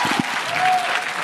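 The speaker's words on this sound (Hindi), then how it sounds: "एक बार फिर से ताली बजाइए इनके लिए" Brief burst of audience applause, dense steady clapping from a crowd lasting about a second, with a short voice at the start.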